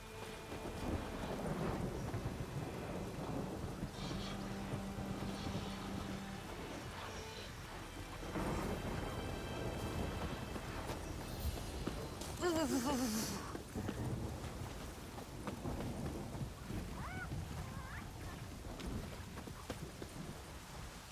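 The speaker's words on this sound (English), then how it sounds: "A storm, damn it." A thunderstorm with rain in the game The Witcher 3: a steady rain hiss with low rumbling thunder rolls throughout, plus faint hoof-like clopping and distant voices.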